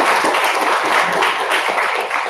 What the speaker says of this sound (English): they deserve a big applause for that as well